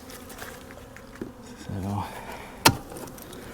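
Honey bees buzz steadily around an open beehive during a late-winter inspection, a low close drone under brief handling knocks and a sharp click.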